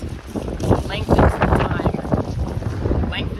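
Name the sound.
wind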